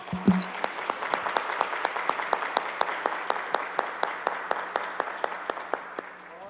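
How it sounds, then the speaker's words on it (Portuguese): A church congregation applauds during a worship service, settling into steady rhythmic clapping in unison, evenly spaced beats repeating about four times per second, moderately loud and sustained over a faint low hum. "Vamos aplaudir o Senhor"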